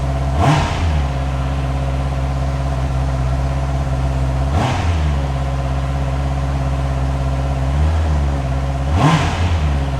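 A Honda Rebel 1100 SE DCT motorcycle engine runs at a steady, rumbling idle close by, with three short throttle blips spaced evenly about four seconds apart. No one speaks.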